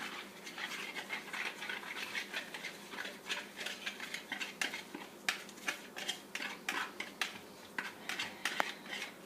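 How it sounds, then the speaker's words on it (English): Ingredients are mixed together in a bowl with quick, rhythmic clinks and scrapes of a utensil against the side, faint and steady with sharper taps toward the end. "Gonna mix those up real quick for a second."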